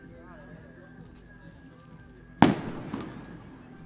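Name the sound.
fireworks celebrating a cricket boundary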